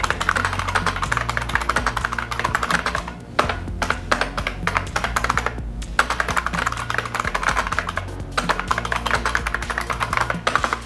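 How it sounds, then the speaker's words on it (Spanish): Steady, clattering keystrokes on a noisy spring-key keyboard, typed quickly and continuously up close with only brief pauses. "Hace mucho ruido porque cada tecla tiene un resorte adentro."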